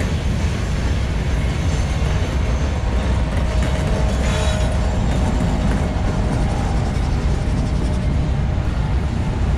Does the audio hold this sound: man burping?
no